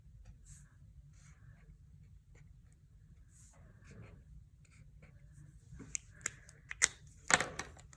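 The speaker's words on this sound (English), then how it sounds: "You can draw Moses' body however you want." Pen or pencil drawing on paper, a soft continuous scratching with a few sharper taps and strokes near the end, close and fairly quiet with no talking.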